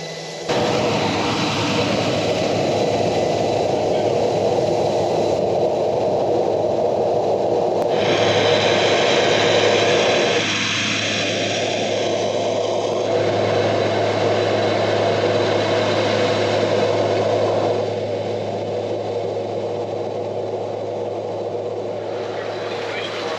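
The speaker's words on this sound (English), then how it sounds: "here we are on our airplane. Our first seaplane." A steady seaplane engine drone runs throughout, loud and constant, with people talking over it, in Alaska.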